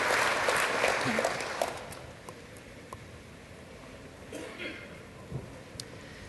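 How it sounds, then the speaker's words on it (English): Audience clapping after a demo at a TechEd Europe tech conference session, moderately loud at first and then fading within two seconds to scattered faint claps amid room noise. "No applause for our wonderful demo that time?"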